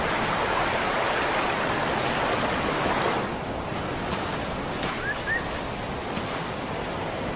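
Ocean waves washing onto a beach in Sulawesi, a steady loud surf roar that eases to a softer wash midway, with light wind noise and no voices.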